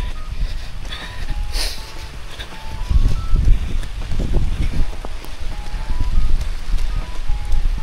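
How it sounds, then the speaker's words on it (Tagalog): Heavy rain pours down at a house in the Philippines, a dense steady patter on surfaces with gusts of wind, fairly loud and continuous with no talk. "Malakas na yung ulan."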